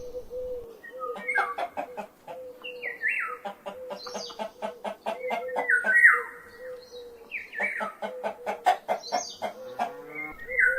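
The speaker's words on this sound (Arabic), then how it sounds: "دجاجة." A chicken clucks in repeated rhythmic bursts of short, close, clear calls, broken by a few drawn-out squawks, heard alone against a quiet background.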